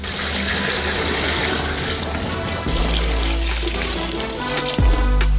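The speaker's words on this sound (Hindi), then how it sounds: "उन्हें 5 लीटर पानी से भरें।" Five litres of water pour steadily into a metal saucepan, a continuous rushing splash that deepens in tone partway through and ends with a soft clunk.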